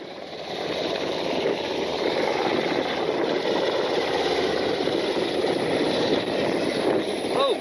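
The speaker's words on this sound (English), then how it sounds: "Again, a Black Hawk and PC-12 landing behind it." A PC-12 airplane lands behind a Black Hawk helicopter, a loud steady roar of engine and rotor noise that fills the whole stretch with no talk.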